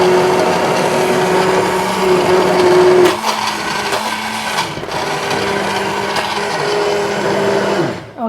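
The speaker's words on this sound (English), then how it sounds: "Okay, so I'm using this immersion blender." An immersion blender whirs as it purees red lentil soup, a loud, steady motor whine that dips and shifts pitch as the blade moves through the pot, then cuts off right at the end.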